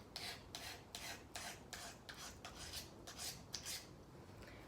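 A metal file rasps across the blade of a horticultural hand tool in about a dozen quick, even strokes, each a short gritty scrape, close but quiet with no talking.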